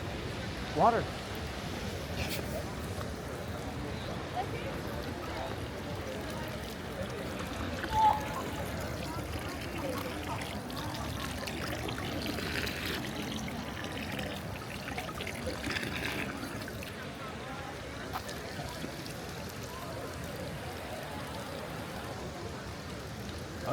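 Water trickles and flows steadily at low level, a soft continuous babble with a couple of brief louder knocks.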